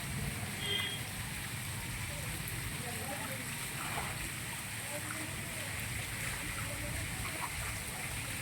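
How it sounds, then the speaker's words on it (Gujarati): Rainwater rushes strongly along outdoors right after a heavy downpour, a steady broadband stream that stays even and fairly quiet, with faint background noise. "જોરદારનું પાણી હાલતું કરી દીધું"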